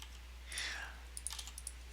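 Quick clicks of a computer mouse during play of a modded Minecraft game, FTB Infinity Evolved, a few sharp taps spaced through the clip over a soft broadband hiss, close and fairly quiet.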